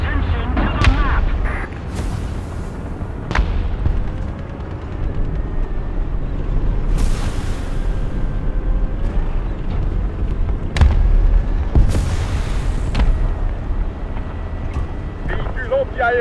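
Artillery fire in a tank video game set in Flanders with an AMX-13 (FL11), heard as several heavy booming shots spread through the clip over a constant engine rumble, with radio-style voices talking throughout.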